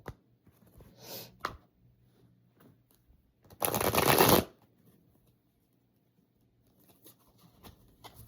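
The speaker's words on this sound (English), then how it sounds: "I just felt like switching decks right in the middle of shuffling" A deck of playing cards is shuffled close by in a few short bursts, the loudest a dense riffle lasting about a second, with quiet handling between.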